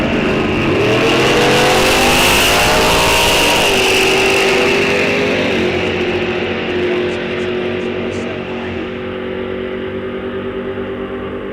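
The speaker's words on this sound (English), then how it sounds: "Right side, Dan Woody going to do a great big wheelie" A drag racing car at Rock Falls Raceway during a bracket series launches hard, its engine roaring loud and revving up in pitch before the sound settles and fades as the car runs off down the track.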